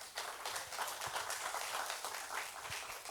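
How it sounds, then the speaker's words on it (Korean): Audience at a population forum in Gwangyang applauding, a continuous, fairly soft wash of many hands clapping heard from a distance, steady for the short stretch with no speech over it. "다시 한번 큰 박수 부탁드립니다."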